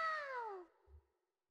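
A single clear cat meow, close and fairly loud, falling in pitch and fading after about half a second, followed by a soft low thump and then quiet.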